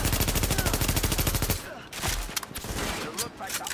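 Rapid automatic gunfire from a Tom Clancy's The Division firefight, a dense, loud burst of regular shots that stops midway, followed by scattered sharper cracks and impacts.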